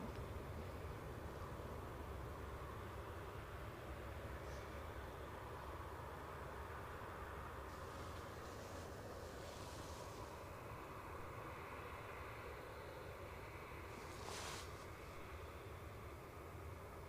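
Airliner taxiing briskly along the taxiway at Edinburgh Airport on a windless day, a steady low engine rumble filling the whole stretch, with brief louder hissing whooshes partway through.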